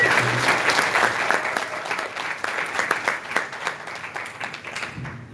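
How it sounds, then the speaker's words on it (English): A room full of people at a beer bloggers and writers conference give a round of applause, with dense steady clapping that holds up throughout and tapers slightly at the end. "We'll get one more round of applause."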